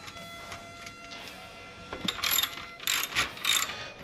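A ratchet wrench works loose an old bolt on a Harley Road Glide motorcycle, with a few slow clicks followed by quicker bursts of close, sharp ratcheting.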